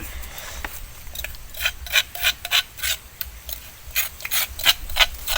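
Rhythmic dry scraping and rasping strokes, close and fairly loud, as something is scraped to gather ants for food, repeating in uneven bursts.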